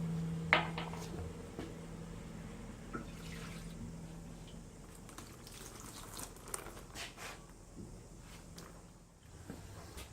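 Old fuel tank on a 1964 vehicle being drained of stinking liner-prep liquid, a steady faint trickle and splash of fluid running out with scattered drips, continuous for the whole stretch.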